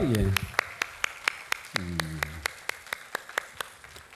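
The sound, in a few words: church congregation clapping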